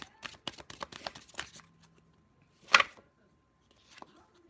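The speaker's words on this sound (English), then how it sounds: "I don't like shuffling like that." A deck of tarot cards shuffled during a live evening reading, a rapid run of crisp riffling flutters followed by a sharp louder burst of shuffling and a faint tap, close up with no talk.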